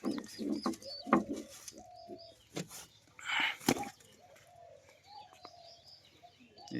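Rajshahi high-flying giribaj pigeons, a male and a female in their coop, coo softly in repeated low calls mixed with a few chirps and light knocks, quiet and close, with no talk.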